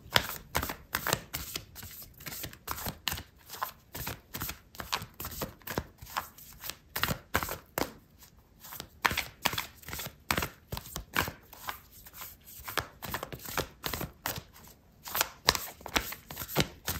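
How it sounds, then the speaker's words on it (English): Oracle cards being shuffled and pulled, heard as a fast, continuous run of crisp riffling flicks and slaps that stays close and steady throughout. "I'm going to pull out an oracle card for you"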